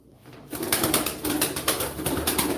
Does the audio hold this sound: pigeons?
yes